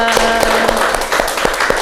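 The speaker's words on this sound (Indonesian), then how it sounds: "Tepuk tangan untuk kita semua." Clapping from a group during a classroom teaching session, quick hand claps running steadily throughout with a voice and a held tone over them.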